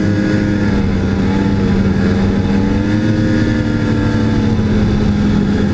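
A snowmobile engine revs loud and close, a sustained buzzing whine that rises and falls slightly in pitch as it rides across snow.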